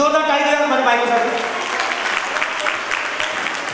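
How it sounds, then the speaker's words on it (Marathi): An audience at a women's gathering claps loudly for a man's wife, the applause dense and sustained throughout, with a voice audible over its opening. "जोरदार टाळी द्या माझ्या बायकोसाठी"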